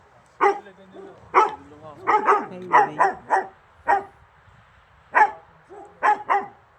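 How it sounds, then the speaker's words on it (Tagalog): Several dogs at nearby houses in a Slovak village bark in short separate bursts, some yips and a whimpering tone mixed in, fairly close and loud, with a brief voice heard. "Mga aso, halos lahat ng bahay dito may aso."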